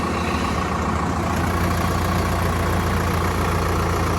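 A tractor engine runs close by, a loud, steady low rumble that holds level throughout, during a harvest-season trip from Mansa, Punjab toward Madhya Pradesh.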